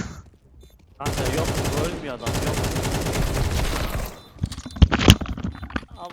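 Gunfire in Counter-Strike 2 on the Mirage map: a dense burst of automatic fire lasting a few seconds, then a few sharp single shots, with players talking over it.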